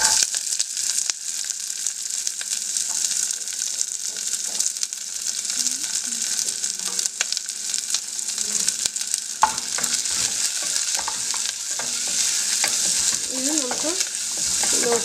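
Shallots sauté in oil with green chili and curry leaves for a Kerala-style theeyal gravy, giving a loud, continuous sizzle close up with occasional stirring scrapes; no voices.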